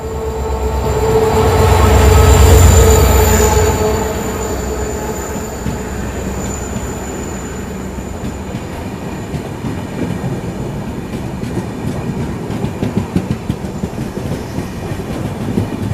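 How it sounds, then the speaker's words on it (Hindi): Garib Rath Express with LHB coaches pulling in behind a diesel locomotive, a loud rumble that swells early then gives way to steady rolling wheel clatter and faint squeal as the coaches pass close by. "ये आ गई डीजल लोकोमोटिव के साथ गरीब रथ एक्सप्रेस"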